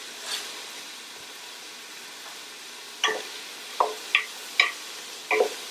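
Bean and ham soup ingredients sautéing in a pot with ham, bacon and pepper, heard as a quiet sizzle under a handful of distinct spoon scrapes and clinks in the second half, close and with no talking.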